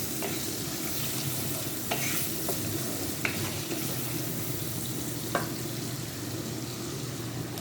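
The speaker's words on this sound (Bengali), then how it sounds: "এখন আমি পেঁয়াজটা ভেজে নেব" Onions and whole spices fry in a pan with a steady low sizzle, while a spoon stirs and taps against the pan in occasional sharp clinks.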